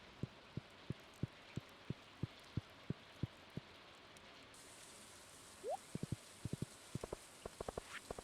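Rain falls in the video game Stardew Valley as a steady background patter, with a regular series of soft taps, then a pause and a quicker irregular cluster of taps.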